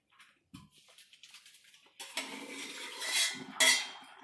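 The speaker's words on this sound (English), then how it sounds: "I dump all the water off." A few pot and utensil clinks give way to macaroni cooking water rushing and splashing into a sink strainer, growing louder toward the end.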